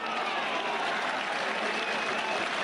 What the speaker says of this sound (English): Just listen to that crowd roar